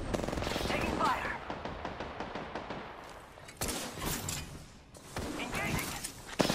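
Gunfire in Apex Legends rattles in rapid automatic bursts with short pauses between them, loud and close, with game effects mixed in.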